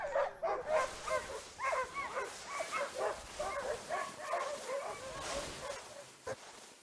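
Several dogs bark and whimper in a continuous excited chorus of short yips and whines, fairly close and loud throughout, with no talking over them.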